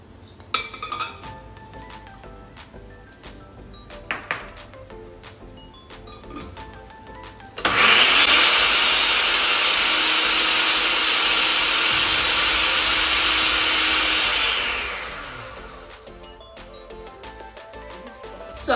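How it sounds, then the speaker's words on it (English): Blender whirring through a shampoo mixture, starting abruptly after some clinking of containers, running as one loud continuous whine for about seven seconds, then winding down and stopping. "So we're going to be blending this first"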